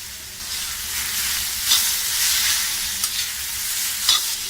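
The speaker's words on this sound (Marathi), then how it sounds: "कांदा आणि टोमॅटो एकदम फ्राय करून घ्यायचे आपल्याला" Steady sizzling and crackling of onion and tomato frying in a hot pan, with occasional scrapes of stirring, continuous and close, no voices.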